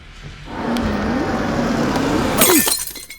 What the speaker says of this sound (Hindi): तूने मेरी गाड़ी का शीशा क्यों तोड़ा?